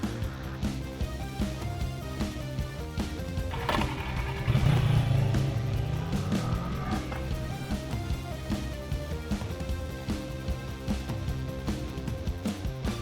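Kawasaki ER-6F, a fully faired 650 motorcycle, out on a test ride: a steady engine drone with rising revs around the middle, heard close and continuous over the full stretch with no talk.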